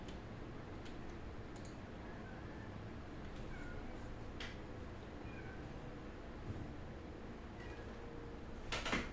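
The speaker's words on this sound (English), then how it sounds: "My cat is screaming" Indoors, a cat gives several faint meows spread across the clip over a low background hum, with one louder cry near the end.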